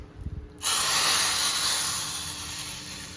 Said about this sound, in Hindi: अब हम लगाते हैं तड़का।